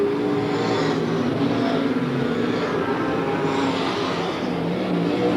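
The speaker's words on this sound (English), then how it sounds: "He's obviously giving that McHugh motor full acceleration at every point around the Archerfield Speedway" A super sedan race car with a McHugh motor at full acceleration at Archerfield Speedway during a 30-lap race, a loud, continuous engine roar that stays steady and close throughout.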